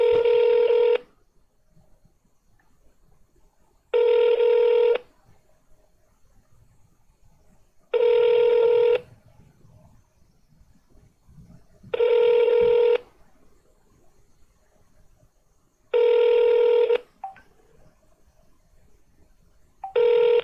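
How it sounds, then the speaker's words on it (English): A telephone dialing a call back, five evenly spaced long tones about four seconds apart with quiet gaps between, clear and close. "I got a missed call from Harbour John. Let me call you back."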